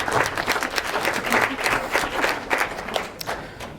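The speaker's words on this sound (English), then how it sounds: "Give yourself a round of applause for that." Wedding guests applaud during the reception speeches, a full, close round of hearty clapping that holds steady and then begins to thin out toward the end, with no talking over it.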